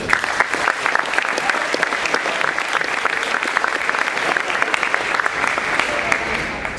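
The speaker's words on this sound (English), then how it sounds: "Give one more round of applause for all our baseball stuff." Audience applause at a high school athletic signing ceremony honoring baseball players, a dense steady clapping from a crowd that carries on without a break for several seconds.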